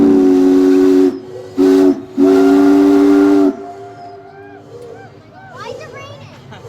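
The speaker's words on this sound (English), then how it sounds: "We're going to say hello on our whistle." A steam whistle on the Minne-Ha-Ha paddlewheel cruise boat at Lake George sounds three loud, close toots, a long blast, a short one and another long one, leaving hissy ambience and people talking afterwards.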